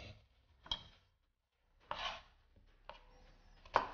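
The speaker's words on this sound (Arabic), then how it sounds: "فيكن تفرموه خشن أخشن من هيك شايفين بهالشكل هاد" An onion is chopped with a knife on a cutting board in a few distinct, fairly quiet cuts separated by short pauses.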